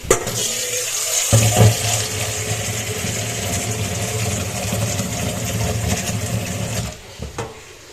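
Tap water runs steadily for soaking cut potatoes, a loud continuous gush from close by that cuts off near the end, leaving a few faint knocks.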